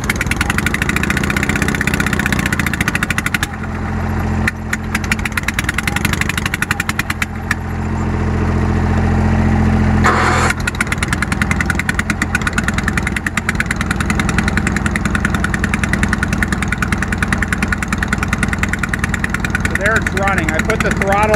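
A troublesome Bolens QT 16 garden tractor engine runs loud and close after a cold start, holding a steady rough idle throughout.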